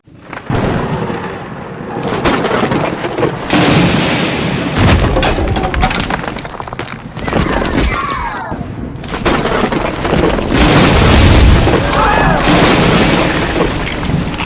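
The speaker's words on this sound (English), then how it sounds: "Lightning just hit our house!" Loud, rumbling booms and cracking blasts of a lightning strike hitting a house roll on continuously for the whole stretch, like a close thunderstorm with heavy crashes and no voices.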